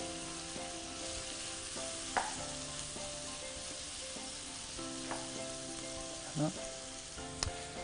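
Onions fry in oil in a pan, a steady crackling sizzle with a few sharp pops and utensil clicks over a faint background hum, no voices.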